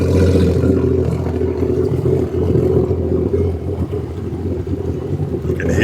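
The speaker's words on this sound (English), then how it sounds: "You can hear that exhaust." Loud, steady low exhaust drone from a racing jet ski, rumbling continuously with wind buffeting the microphone throughout.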